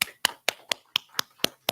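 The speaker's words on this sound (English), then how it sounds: "Give him a round of applause." Crisp, evenly spaced hand claps, eight in a row at a brisk steady beat, close and distinct with silence between each, at a small gathering.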